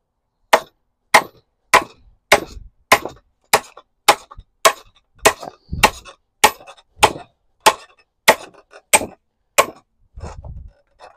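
Steady, evenly spaced sharp chops of an axe striking a hickory wood stave, about fifteen loud blows in a row, close by with no talking.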